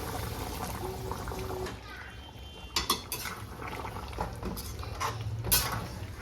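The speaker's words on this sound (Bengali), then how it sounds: "গরম জলটা দিয়ে দেবো" Hot water poured into a cooking pan of prawn curry, mixed with clinking utensils and pot sounds, close by, while someone talks over parts of it.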